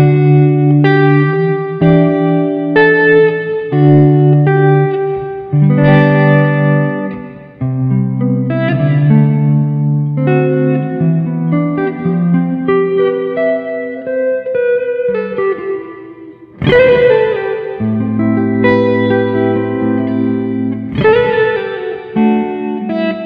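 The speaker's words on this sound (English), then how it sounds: "let's check out a little bit of the tremolo. And of course a splash of sort of reverb" Clean electric guitar chords and picked notes pulse with a wavering tremolo from a Stanley FX eTap2HW pedal, washed in reverb from a Goldmine pedal, played alone at a steady moderate volume.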